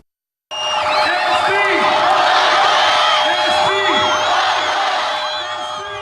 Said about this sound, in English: They were greeted by a huge crowd outside the Jackson's International Airport.